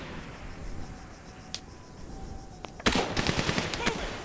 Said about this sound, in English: MGs are effectively engaging enemy infantry units simultaneously